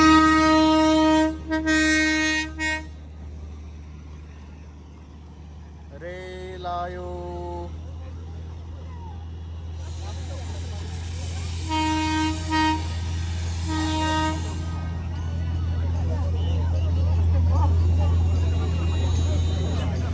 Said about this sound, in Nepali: रेल आइसकेको छ, रेल आइसक्यो है